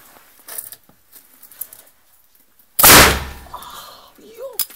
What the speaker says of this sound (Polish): Uwaga, strzał.